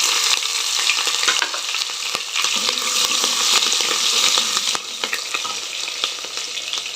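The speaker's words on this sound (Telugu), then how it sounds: "ఇంకా తర్వాత పచ్చిమిర్చి వేస్తున్నా" Green chillies sizzling loudly in hot oil with cumin seeds in a pan for sago khichdi, a dense, continuous close-up frying hiss with occasional stirring scrapes.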